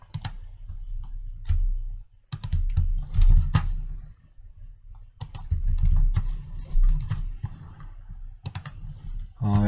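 Fingers typing an Excel file name on a computer keyboard, close bursts of rapid key clicks separated by short pauses, with no talking.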